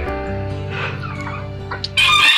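Ornamental chickens at a breeding farm cluck softly over a droning background, then a rooster breaks into a loud, close crow at the end.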